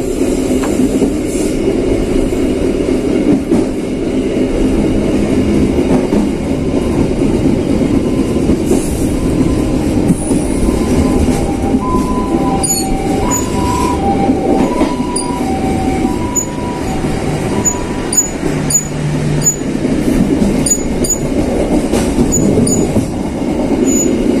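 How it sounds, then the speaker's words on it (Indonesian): A passenger train, the Tegal Express, rumbles steadily past at close range through Cirebon station, wheels clattering and squealing on the rails, with a few high metallic squeaks near the end. "kereta api Tegal Express akan melintas langsung di stasiun Cirebon"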